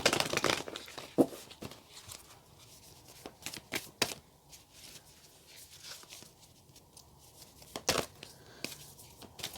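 A tarot card deck being shuffled by hand, with irregular bursts of papery riffling and tapping, close and fairly quiet, with no talking.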